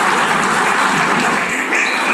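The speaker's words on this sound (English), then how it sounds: "Listen to the applause." Loud, dense applause fills the UN General Assembly hall, a steady wash of clapping from a large audience with no talk over it.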